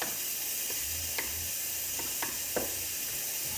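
Tomatoes for salsa stirred in a hot pan, a steady bright sizzle with a few soft scrapes of the spoon rising above it, close and continuous, no voices.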